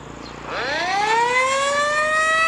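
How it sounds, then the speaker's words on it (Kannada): An air raid siren sounding for a war mock drill in Bengaluru winds up from a low tone to a loud, sustained wail that holds steady, with no other sounds. "ಸೈರನ್ ಸೌಂಡ್ ಈ ರೀತಿಯಾಗಿರುತ್ತೆ ಈ ರೀತಿಯಾಗಿ ಮೊಳಗುತ್ತೆ"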